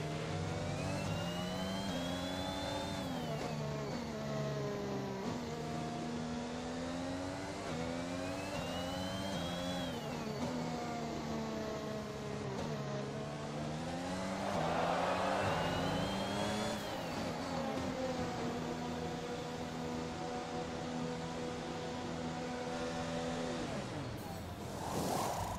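An F1 race car in the video game F1 2021 accelerates back up to racing speed after a yellow flag, its engine whine climbing and dropping through repeated gear-change sweeps, steady and loud.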